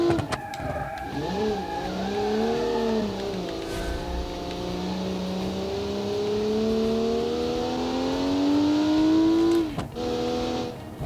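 A car in the racing game Automation revs hard in first gear, its engine note climbing and dipping in a long, loud whine that holds high before a quick drop and brief tire squeal.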